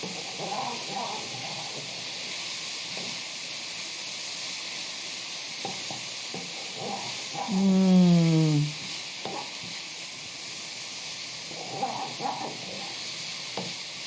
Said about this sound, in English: I'm going to add them now and stir fry probably another minute